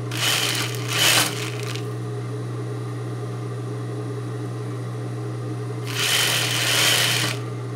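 A sewing machine stitching a hem on a fabric scarf, with two bursts of fast running stitches at the start and near the end over a steady close motor hum.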